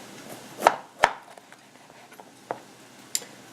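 Knife cuts the tops off bell peppers on a cutting board, two sharp chops close together followed by a few lighter taps, in an otherwise quiet kitchen.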